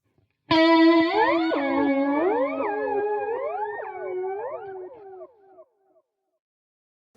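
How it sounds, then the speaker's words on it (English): A single sustained guitar note processed with a formant shift effect in Logic Pro X, sounding bright and warbling with gliding, vocal-like overtones that bend up and down before fading out after about five seconds, with no talking. "let's change this formant shift and see what that sounds like."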